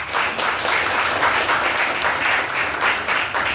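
Dense, loud applause from a large crowd at a union's 30th-anniversary celebration in Haiti, a continuous wash of clapping with no speech.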